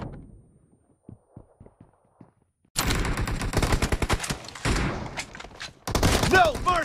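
Gunfire in PUBG Mobile starts as faint, scattered single thumps, then erupts into loud, dense bursts of rapid shots and a fusillade, with short pauses between the volleys and game voice lines mixed in.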